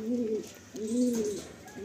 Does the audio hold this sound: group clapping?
no